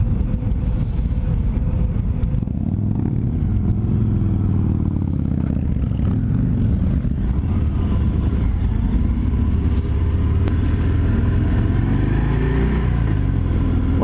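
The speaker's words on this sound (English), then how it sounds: "This Fat Bob 114 is a fast bike." A 2020 Harley-Davidson Fat Bob 114 FXFBS on a demo ride, its engine a continuous deep rumble mixed with wind noise, close and loud, with pitch shifting as the bike accelerates.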